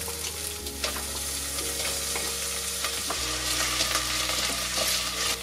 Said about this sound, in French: dans une casserole, on fait maintenant chauffer un petit fond d'huile et on va venir faire rissoler notre oignon coupé